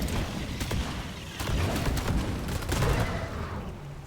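Rapid gunfire from weapons shooting at enemies in Deep Rock Galactic, a continuous rattling stream of shots running through the clip at a steady loud level.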